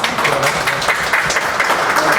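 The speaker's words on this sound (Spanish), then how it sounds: "Un aplauso para él, por favor." An audience at an education and art talk breaks into warm applause for the next speaker, a loud, dense wash of clapping filling the room, with a voice faintly underneath.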